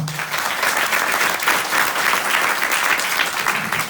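Audience applause at a university debate between Koya and Selaheddin universities, a steady, dense wash of many hands clapping together, loud and continuous for the whole stretch with no voices rising above it.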